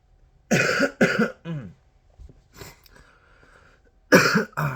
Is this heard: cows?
no